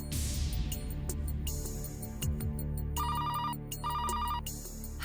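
A telephone ringtone plays while a call is placed, a bright electronic ring in two clear bursts separated by a short pause, over a low background hum with no talking.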